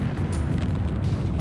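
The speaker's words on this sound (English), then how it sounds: "Well, that's some explosions." Deep rumbling explosions from the Sega Saturn game AMOK roll on continuously, loud and bass-heavy, with a voice speaking over them.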